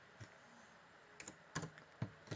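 Sparse keystrokes on a computer keyboard, a few quiet isolated clicks and short bursts spread over a couple of seconds against faint room noise, entering text in a GeoGebra activity.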